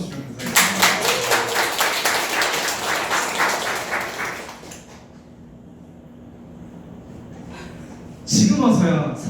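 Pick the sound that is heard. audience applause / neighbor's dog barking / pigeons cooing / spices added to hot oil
audience applause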